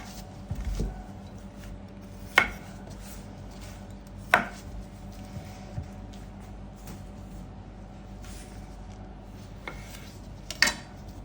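A knife slices through smoked Drohobych sausage on a board, a handful of sharp, close taps spaced a second or two apart over a quiet room background.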